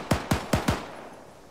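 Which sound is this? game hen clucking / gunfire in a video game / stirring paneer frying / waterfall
gunfire in a video game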